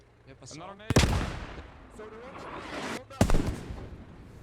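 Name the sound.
grenade explosions in the video game Post Scriptum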